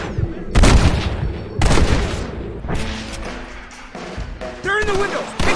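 Gunfire erupts in a Wild West shootout in Red Dead Redemption, with several loud, close booming shots in bursts amid shouting voices and other game sounds.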